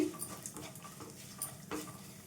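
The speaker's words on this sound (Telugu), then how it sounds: "చూడండి పోపుని అయితే ఈ విధంగా వేయించుకోవాలండి" Tempering spices fry in a pan of hot oil for dried coconut chili powder, giving a quiet crackling sizzle broken by a few scraping stirs.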